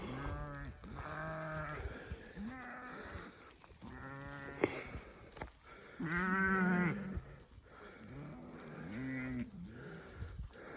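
Sheep bleat repeatedly on a farm, several animals calling in overlapping, wavering cries at close range, some loud and drawn out, others shorter, with no one speaking.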